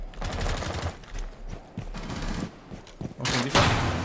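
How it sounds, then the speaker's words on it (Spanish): Shotgun pistol firing in Rainbow Six Siege: loud, rapid bursts of shots crack in close succession, with a brief lull before a final heavy volley. "Es una pistola escopeta."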